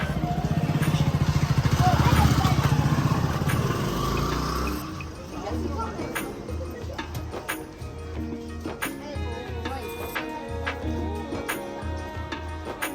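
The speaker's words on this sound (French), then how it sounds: "c'est l'heure de pointe, il y a un peu de monde et avec les scooters." Rush-hour street traffic in Pushkar, India, with scooters and motorbikes rumbling and passing close amid a busy crowd, engine drone and clattering noise throughout.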